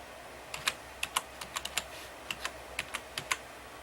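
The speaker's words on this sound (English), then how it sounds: "Let's say, type in my name." Keys on a computer keyboard tapped in short, irregular bursts while a name is entered during Ubuntu Linux setup, with about fifteen crisp clicks close by and quiet in between.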